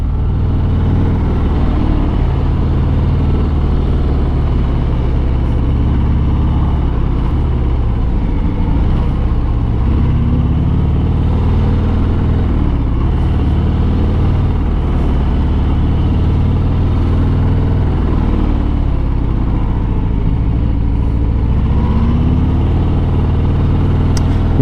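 A 2022 Harley-Davidson Sport Glide motorcycle filtering through heavy traffic makes a continuous, loud, low engine rumble close up, mixed with road and wind noise, with no talking throughout.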